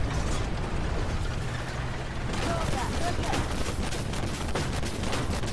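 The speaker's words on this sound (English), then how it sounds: "now we're shooting at the side rear of his turret, and everything's bouncing" Tank cannon and gunfire from a Wiesel 1 in the Armored Warfare video game, a run of rapid shots rattling against the side and rear of an enemy turret amid dense battle noise, with a voice talking over it.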